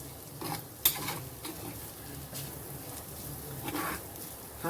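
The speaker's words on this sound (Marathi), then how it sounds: "बघा मी परत एकदा तूप घातलं होतं थोडंसं आणि छान परतून घेतली" Grated fresh turmeric sautés in ghee in a kadhai, a soft sizzle with intermittent spoon scrapes and a sharp metallic clink early on; close and fairly quiet, no talking.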